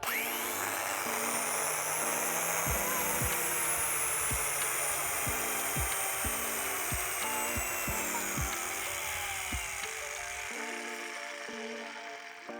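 A Procraft brushless corded angle grinder, 1300 W, whirs steadily and loudly for several seconds with periodic rhythmic ticks, then winds down near the end.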